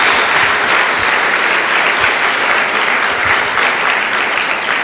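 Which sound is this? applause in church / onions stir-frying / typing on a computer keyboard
applause in church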